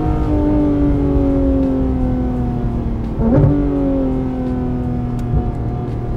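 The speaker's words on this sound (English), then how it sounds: "listen to these downshifts" A Porsche GT3 RS engine runs loud and close, its pitch falling in stepped drops through a series of downshifts, with a sharp throttle blip about midway.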